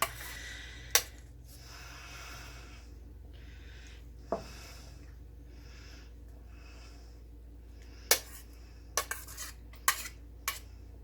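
A metal spoon clinks and scrapes against a pot while sausage goes back in, sparse sharp knocks scattered through quiet stretches, with soft rustling and breathing-like noises between them.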